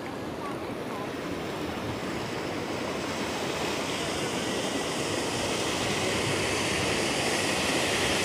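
Strong water rushes at the Rosario dam on Riacho dos Porcos in Milagres, Ceará, a loud, constant broadband roar with wind buffeting the microphone, steady for the whole stretch.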